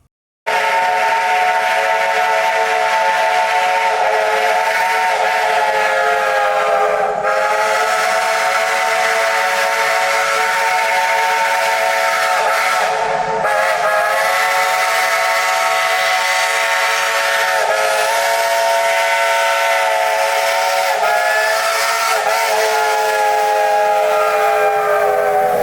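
A Shay geared steam locomotive at Cass sounds its chime whistle in a long, loud, sustained blast with a few short breaks, close and clear with no talking.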